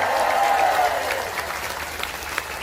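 Sustained applause from a big audience at an Islamic sermon event in Taiwan: many hands clapping in a thick, even roar, with a high cheer near the start that fades as the clapping continues.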